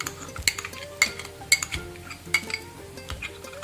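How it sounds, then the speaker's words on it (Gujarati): Metal utensil clinks and scrapes against a pan as yogurt gravy goes into capsicum curry, a handful of sharp clinks spaced across the moment over soft stirring. "આ સ્ટેજ ઉપર આપણે દહીંની ગ્રેવી એડ કરી દઈશું."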